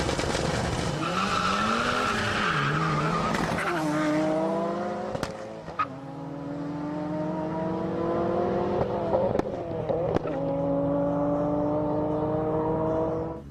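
Street drag cars race at a festival at Shiroi Carland in Hokkaido, their engines roaring loudly and revving up in repeated rising sweeps, with sharp pops and bangs cutting through the steady near engine noise.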